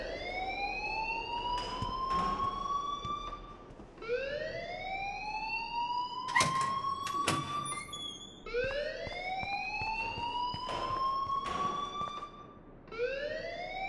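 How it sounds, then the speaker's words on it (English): Wailing electronic alarm in the video game Life is Strange, a rising, sweeping tone that repeats in long cycles of about four seconds, steady and prominent, with a few brief clattering noises mixed in. "please turn off that alarm since that's your job"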